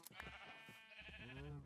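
A sheep in Minecraft, played with a modpack, bleats twice nearby, a short wavering bleat followed by a longer, clearly pitched one, with faint game sounds around it.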